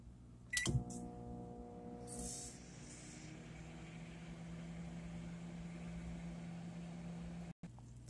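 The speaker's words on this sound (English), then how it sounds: "Eggs going in the microwave for 3 minutes." A microwave oven door clunks shut, a few beeps sound, then a low steady hum drones on as it cooks eggs, ending with an abrupt cutoff.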